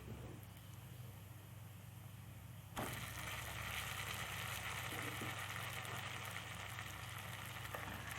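Chicken pieces hit a hot pan of browned onions for biryani and set off a loud, steady sizzle that jumps up sharply a few seconds in and keeps frying close by, with a faint voice underneath.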